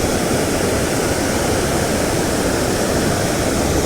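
A creek waterfall roars in a steady, loud, unbroken rush of broadband water noise that fills the whole stretch, close to the listener with no voices.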